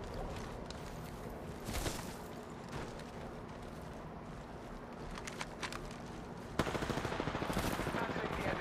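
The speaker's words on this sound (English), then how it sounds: "They're shooting at us." Gunfire crackles through a match of the Apex Legends video game, a dense, steady barrage of rapid shots with a sharper burst near the end, all at moderate loudness.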